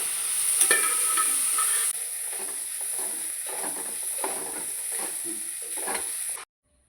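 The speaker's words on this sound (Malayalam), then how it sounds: "എന്നിട്ട് നന്നായി ഇളക്കി അത് വെന്ത് കഴിയുമ്പോൾ നമ്മുടെ കല്ലുമ്മക്കായ ഫ്രൈ ഇവിടെ റെഡി ആയിട്ടുണ്ടാവും" A spoon stirs mussels frying in a pan, soft scraping strokes over a steady hiss of sizzling oil that drops slightly partway through and cuts off at the end.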